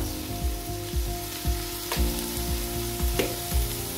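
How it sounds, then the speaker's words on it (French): Tomato and aromatics sizzle steadily in a pan, with a rhythmic scraping stir repeating about twice a second close by and no voices. "Et là, on tourne, on mélange l'aromate."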